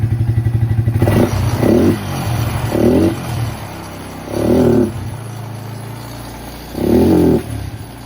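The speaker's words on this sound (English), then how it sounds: "I'm gonna rev it out, see how it revs." A 25-year-old Suzuki ATV engine, air box lid and air filter off, idles with a steady putter, then revs up in four sharp bursts, rising and falling, close by.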